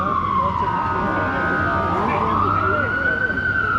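A wailing emergency vehicle siren sweeps up and down on a busy Washington DC street, loud and close over steady traffic noise.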